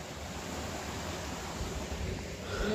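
The waterfall at Apsara Kund in Pachmarhi roars as a steady broadband rush of falling water, constant and fairly loud, with some wind buffeting against the microphone.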